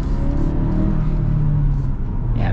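A 2024 Ford Ranger with the 2.3 engine accelerates from inside the cab, a steady low rumbling hum building slightly with no voices over it.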